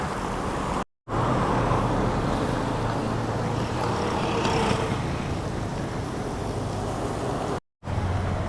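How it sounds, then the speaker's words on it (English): Road traffic in Chiang Mai passes steadily, a continuous loud wash of car engines and tyre noise with no voices, broken by two brief gaps. "Seems to be quite a few cars out here too."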